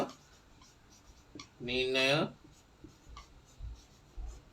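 A pen or marker scratches out text during a symbolic logic lesson, soft, close strokes at low level, with a brief voiced burst in the middle.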